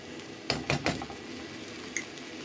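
Spices are stirred in hot oil in a pan, with a few soft scraping clinks of a spoon against the metal over a faint sizzle, quiet and close.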